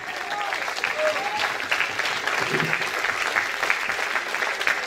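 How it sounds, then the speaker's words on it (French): A crowd at a lookalike show in a festival setting claps steadily and fairly loudly, dense applause with scattered louder hand claps and a brief voice in the middle. "On applaudit Coluche."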